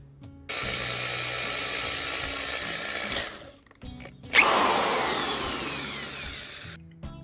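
A small power drill with a tiny bit bores into a wooden base for a model water tower, whining steadily for a few seconds, pausing briefly, then spinning up again loud and close before stopping.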